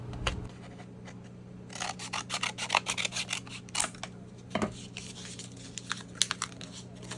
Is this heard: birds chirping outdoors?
no